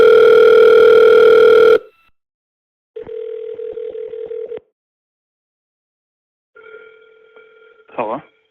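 A phone dials an international number: a steady dial tone, then a pulsing ringback tone repeating twice with silent gaps, and a brief warbling burst near the end.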